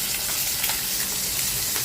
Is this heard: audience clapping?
no